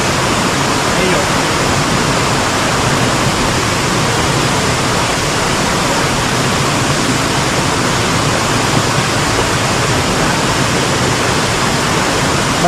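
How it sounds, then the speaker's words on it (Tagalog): Hulugan Falls in Laguna pours with a strong current, a loud, steady, broadband roar of rushing water that fills the scene without pause from start to end. "Malakas kaya ang agos yan."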